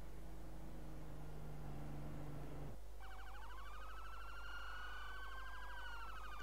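Police car siren in the Roblox video game, a wailing electronic siren that shifts into a rapid warbling yelp partway through, heard alone with no talking.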